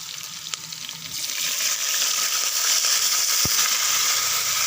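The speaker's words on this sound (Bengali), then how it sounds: "আগে থেকে সিদ্ধ করে রেখেছিলাম, শাক দিয়ে দিলাম।" Boiled pumpkin greens, cooked vegetarian without garlic, hit a hot frying pan and burst into a loud, crackling sizzle after a second, then hiss steadily and evenly with no talking.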